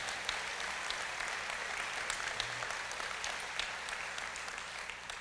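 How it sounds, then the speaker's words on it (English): Audience applause for graduates at a State of the Nation 2018 gathering: continuous crowd clapping with scattered sharper claps, even in level and sustained from start to finish. "let's give them a big round of applause as well"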